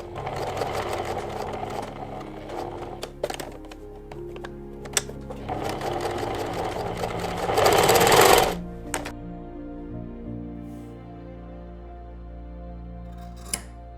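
A sewing machine stitches a cutlery roll-up pouch in fast, close whirring bursts with brief stops, then a louder rising run before the motor falls quiet, leaving a low hum and faint clicks.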